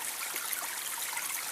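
Water rushes down a natural rock slide in a woodland stream, a steady, close, broadband splashing that carries on without a break and with no voices.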